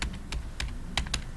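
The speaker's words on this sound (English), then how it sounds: "So to do that, I just type in perspective," Keystrokes on a computer keyboard while entering a command in AutoCAD: a handful of quick, close, crisp clicks spaced unevenly across about a second, over a low steady room hum.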